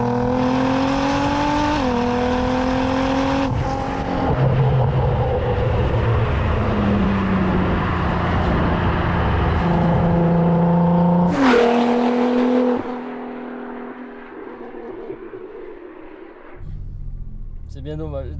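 A Nissan GTR R35 with close to 700 horsepower revs and accelerates loudly in the rain, its engine note climbing through gear changes in a steady close-up roar before backing off near the end, with occasional voices mixed in.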